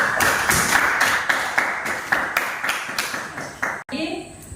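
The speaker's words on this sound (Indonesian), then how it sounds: "Tepuk tangan dulu untuk Nanda." Classroom applause as a class claps in a regular rhythm of quick, sharp claps, close and fairly loud, with a sudden thump near the end.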